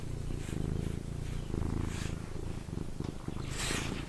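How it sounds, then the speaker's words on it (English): A shop cat purrs steadily up close in a continuous low rumbling rhythm, with faint background sounds and no talking. "And of course I got the best help in the business from the shop cat, Mr. Jingles."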